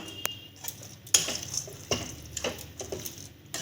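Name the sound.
mixing boiled carrot, beet, mashed potato and nuts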